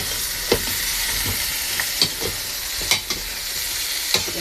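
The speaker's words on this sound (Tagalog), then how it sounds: "Haluin natin." Native chicken tinola cooking in a pot and being stirred, a steady simmering sizzle and hiss with a few soft scraping knocks from the spoon, close and continuous, no speech.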